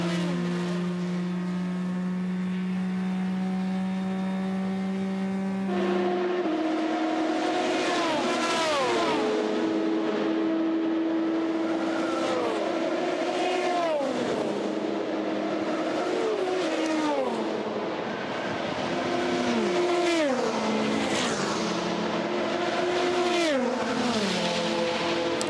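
Race cars at the 24 Hours of Le Mans go by one after another, engines whining and rising and falling in pitch as they pass. A steady tone at first gives way to a long, loud run of passing cars.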